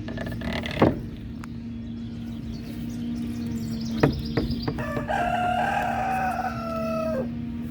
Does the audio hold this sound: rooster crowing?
yes